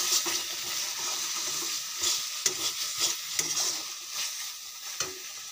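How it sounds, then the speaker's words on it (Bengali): Spice paste sizzling in a pan while a spoon scrapes and stirs it in irregular strokes, close and steady, with no voices. "চলুন মশলাটা কষিয়ে নিই ভালো করে।"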